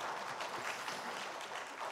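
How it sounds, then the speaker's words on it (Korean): Congregation clapping during a Sunday joint worship service at a Korean church, a steady, fairly quiet wash of many hands lasting throughout, with no voices over it. "하나님께 영광의 박수 올려드리겠습니다"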